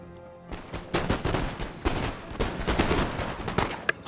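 Musket volleys in Empire: Total War, a dense run of overlapping gunshots from about half a second in, with bursts clustering every second or so under a steady battlefield roar.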